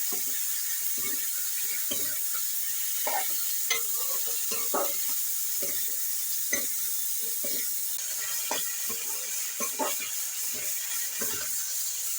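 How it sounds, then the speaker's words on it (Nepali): Steady crackling sizzle of potatoes frying in a pan, with scattered sharp pops and occasional stirring scrapes, close up and fairly even throughout. "पहिला आलु भुटिदिन्छु"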